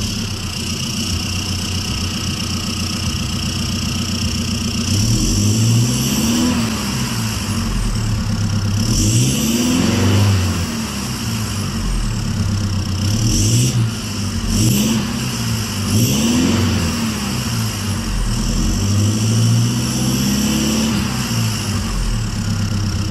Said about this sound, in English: now with the exhaust all installed,